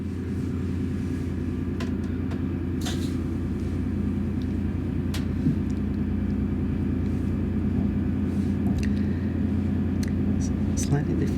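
Transpennine Express Nova 1 train heard from inside the carriage while running toward Liverpool Lime Street, with a steady low rumbling drone and motor hum, punctuated by occasional faint clicks and rattles.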